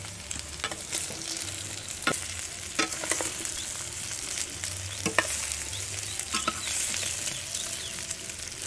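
Boiled potatoes tossed into frying onion and stirred around the pan, a constant sizzle punctuated by scraping and knocking strokes of the spoon at irregular intervals, fairly loud and close, with no voices.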